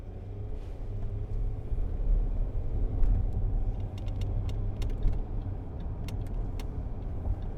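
Low rumble of a car approaching from behind a 2013 Range Rover Sport 3.0 TD V6 HSE on the road, a steady engine and tyre drone heard from inside the cabin, with faint clicks and no talk.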